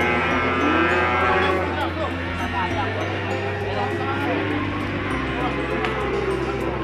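PO (Ongole crossbreed) cattle low steadily at a livestock market, with long, loud moos repeating over a dense, busy crowd noise and people talking in the background.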